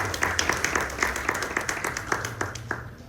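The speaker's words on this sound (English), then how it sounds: "Let's give a round of applause for our panelists and the cool stuff that they're working on." A modest audience at a startup founders' event claps for the panelists, a brief burst of scattered, fairly close handclaps that thins toward the end over a low room hum.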